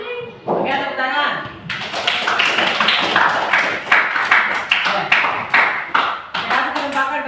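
A small group of teachers claps in a classroom during a group discussion, a burst of irregular hand claps following a brief spoken reply, steady and close, with a voice heard beforehand.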